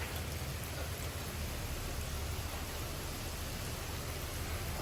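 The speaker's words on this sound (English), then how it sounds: "Oh my gosh, that rain picked up." Intensified thunderstorm rain in Frisco, Texas, driven by strong wind gusts, makes a thick, unbroken wash of noise at constant loudness throughout, with no talking.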